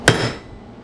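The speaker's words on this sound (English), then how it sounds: "So I'm gonna stick the bolt in there and whack it with a hammer to locate it." A hammer whacks a bolt into plywood while a cast aluminum mailbox is installed, a single loud, sharp close-up strike with a short woody ring fading away.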